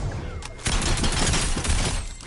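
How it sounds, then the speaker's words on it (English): A rapid burst of gunfire from the Fortnite video game, dense overlapping shots over about two seconds after a short lead-in. "He tried to shoot at me."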